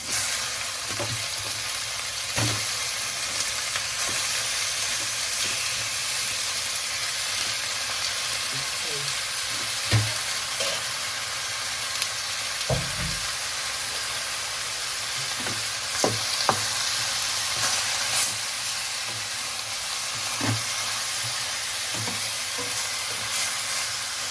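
Chicken pieces frying in a pot for Filipino tinola, a steady broad sizzle running throughout with scattered clinks and stirring knocks against the pot; faint talk now and then underneath.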